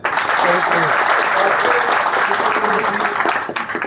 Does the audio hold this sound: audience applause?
yes